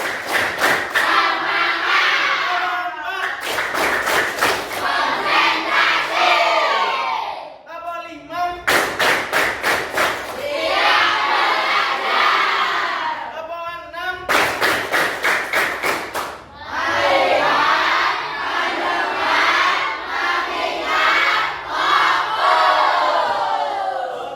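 Students in an Indonesian-language classroom doing a concentration clap exercise: crisp, tightly grouped bursts of hand claps in sets, alternating with loud stretches of many young voices calling out together.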